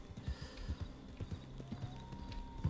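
Horses' hooves clip-clop in Red Dead Redemption 2, a steady rhythmic patter of several hoofbeats at moderate distance with a faint whinny.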